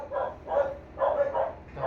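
A dog barking in a quick rhythmic series of four or five close, fairly loud woofs with short gaps between them.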